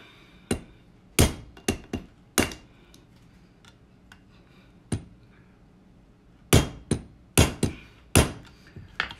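A screwdriver forces an AR-15 trigger guard into place with sharp, close metallic taps and knocks, about a dozen in irregular clusters separated by quiet pauses.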